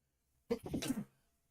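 A single sneeze during a tabletop Dungeons & Dragons game session, short and sharp, fairly close against a quiet room.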